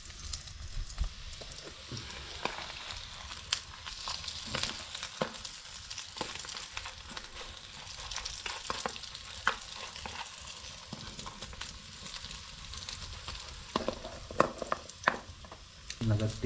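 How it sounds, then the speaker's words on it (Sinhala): Chicken nuggets sizzling in a pan on a camp stove inside a rock cave while camping at Dolukanda, with a steady crackle of frying and occasional stirring clicks throughout. "රැයට කන්න ඉතින් චිකන් නගට් එකකුත් ඉතින් බදින ගමන් තමයි ඉන්නේ."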